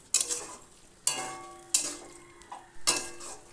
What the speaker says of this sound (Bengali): 3-4 মিনিট ধরে ওলের ডাঁটা আলু মশলার সাথে ভালো করে কষিয়ে নিলাম।